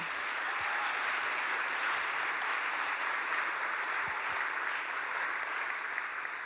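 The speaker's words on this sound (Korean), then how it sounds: "그동안의 수고에 여러분 큰 박수로 격려해 주시면 감사하겠습니다." Steady, dense applause from a church congregation at an anniversary celebration, honoring a retiring director, sustained and even throughout with no voices on top.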